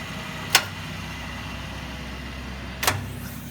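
A Hardinge precision chucking lathe spindle runs with a steady, low, even hum, broken by two sharp clicks about two seconds apart.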